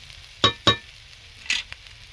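Spiny gourd (kakrol) and ground spices fry in a pan with a soft, steady sizzle, broken by a few sharp clinks and scrapes of a stirring utensil.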